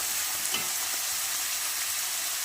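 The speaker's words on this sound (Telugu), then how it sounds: "మీడియం సైజు ఒక ఉల్లిపాయ వేసుకోవాలండి. బాగా బ్రౌన్ కలర్లో రానవసరం లేదండి" Chopped onion frying in oil in a pan for potato kurma, a steady dense sizzle that stays loud and even throughout with no talking.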